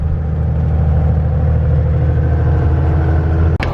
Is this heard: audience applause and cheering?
no